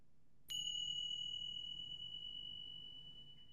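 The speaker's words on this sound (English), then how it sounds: "following the sound of the bells into stillness" A meditation bell is struck once, and its clear, pure tone rings on and slowly fades in a quiet room.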